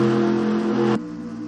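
Race cars in a NASCAR video game at Daytona, a loud close engine roar with a strong tonal drone that cuts off abruptly about a second in, leaving a fainter engine hum.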